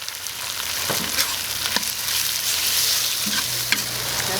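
Pork liver stir-fried quickly in a hot wok with chili, a loud steady sizzle broken by a few sharp clicks of the spatula, close up with no voices.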